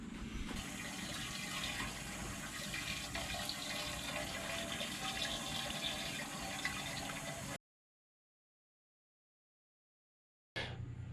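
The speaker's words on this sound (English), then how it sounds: "let's go ahead and flush the tank out with some water" Water gushes steadily into and through a very dirty, acid-treated fuel tank being flushed out, a loud continuous splashing rush that stops abruptly partway through and briefly resumes at the end.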